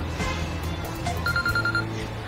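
A telephone rings in a dramatic TV series scene, a rapid trilling ring pulsing for about a second over a background music bed.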